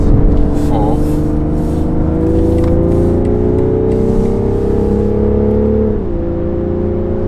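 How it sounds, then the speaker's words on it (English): A BMW X3 M40d diesel engine accelerating, a loud, steady drone climbing gradually in pitch through a gear before a brief dip near the end, with muffled cabin noise around it. "Sounds pretty good, to be honest, for a diesel."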